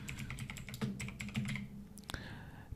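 Keys clatter on a computer keyboard as a search is typed into a Windows 11 PC, a quick run of close, crisp taps followed by a couple of sharper clicks.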